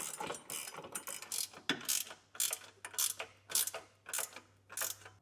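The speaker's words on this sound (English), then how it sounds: "You can just put, the wrench on the nut side and then the ratcheting side on the head, and then we'll just start tightening this down." A ratcheting wrench clicks in quick repeated bursts while tightening bolts on an etrailer hitch receiver being fitted to a 2021 Jeep Wrangler 4xe, close and clear with no talking.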